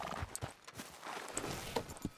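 Soft, distant hoofbeats from a horse being ridden in the video game Red Dead Redemption 2, a light uneven clip-clop of several quiet footfalls with no talking over them.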